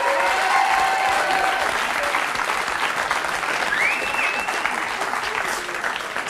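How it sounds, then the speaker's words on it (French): Studio audience on a French talk show applauding loudly for an artist seated in the crowd, dense sustained clapping with a brief whistle or cheer rising through it. "On l'applaudit très fort."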